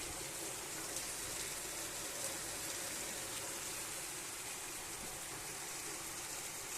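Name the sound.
heavy rain pouring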